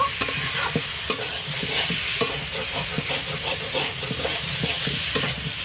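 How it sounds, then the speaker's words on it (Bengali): Katla fish pieces with taro sauté in a pan, giving a steady close sizzle broken by the regular scrape and clack of a stirring spoon. "কিছু সময় কষিয়ে নেব"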